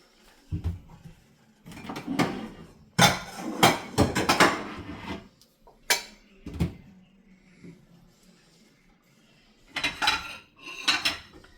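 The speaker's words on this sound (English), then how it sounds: "So Amy, get me 4 bowls out, please." Ceramic bowls being taken from a kitchen cupboard and set down on a counter while preparing scallop chickpea pasta, giving a run of close, loud clattering knocks in uneven bursts with short pauses between.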